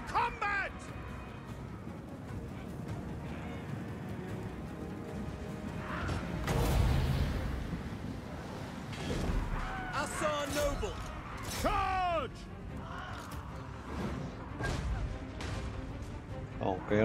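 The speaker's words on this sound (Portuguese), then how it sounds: "O canhão vai seguir atirando no portão ali mesmo." A cannon keeps firing at a gate in a Total War: Warhammer II battle, its heavy booms and crashes scattered among clashing mechanisms and whooshes, with in-game voices and a talking player throughout.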